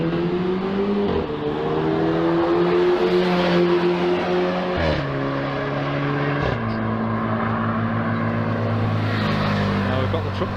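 A camera drone flies overhead at a roadside police stop, giving a steady, fairly loud buzzing whine whose pitch rises and falls as it moves, with faint background sounds underneath.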